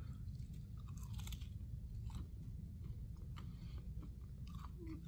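Crunchy battered fried shrimp being chewed close to the mic, with a steady run of crisp bites and crackling crunches over faint background noise.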